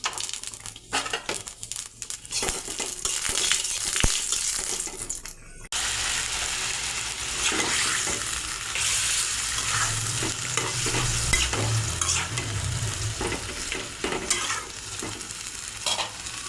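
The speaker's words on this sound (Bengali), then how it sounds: "একটু তেল দিয়ে দেব, তেজপাতা, পাঁচফোড়ন" Bay leaf and panch phoron tempering in hot oil for a light bottle gourd greens and rohu fish-head curry, a steady close sizzle and crackle with stirring scrapes throughout, no talking.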